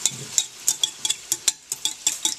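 A whisk beats eggs in a bowl for a canned salmon scramble, sending out a quick, even run of close metallic clicks and taps against the bowl's side.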